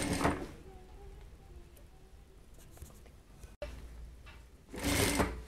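A domestic sewing machine stitches the pieces of a fabric top with sleeves, starting and ending with loud, fast bursts of motor whir and a quieter hum in between.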